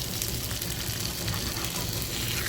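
Fish fries in hot oil in a pan, a dense steady sizzle filling the whole moment at moderate loudness, with no clear separate sound from the flip.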